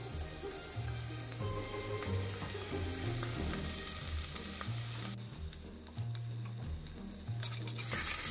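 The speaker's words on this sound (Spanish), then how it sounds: "Se va a freír bien, bien fritita su cebolla y su ajo" Onion and garlic frying in a little oil in a pot over low heat, giving a continuous crackling sizzle throughout, with a low hum and occasional faint clatter in the background.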